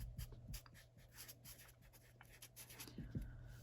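A pen scratches across paper as expenses are written out in a household budget, giving a soft, close, continuous scribbling with small taps and strokes and no talking.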